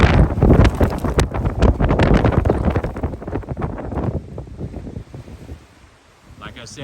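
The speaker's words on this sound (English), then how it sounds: "it's very windy out here today" Gusts of wind buffet the microphone with loud, rumbling bursts that ease off toward the end.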